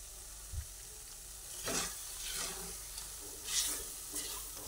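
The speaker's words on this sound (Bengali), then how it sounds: "ভালোভাবে গুঁড়ো দুধটা মিশিয়ে দিচ্ছি।" Milk powder stirred into a thickening mango mixture in a pan for homemade mango kachagolla, with soft intermittent scraping strokes over a faint steady sizzle, close and quiet, no talk.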